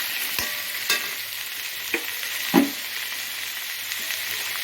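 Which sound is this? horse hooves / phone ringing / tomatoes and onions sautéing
tomatoes and onions sautéing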